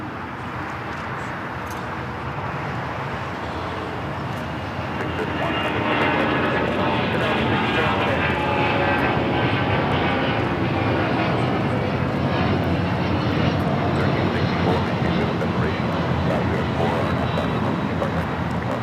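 A Delta Boeing 757-200 taking off at LAX for Mexico City, its engine roar swelling to a louder, sustained broadband rumble partway through, with voices talking over it.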